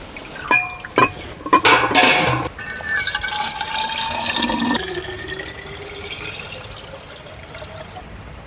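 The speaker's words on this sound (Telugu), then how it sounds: "ఈ వాటర్ బాటిల్కి అయితే వాటర్ పోస్తాము" Water is poured into a water bottle, opening with a few close clinks and splashes and then a steady stream whose pitch climbs as the bottle fills, with no talking.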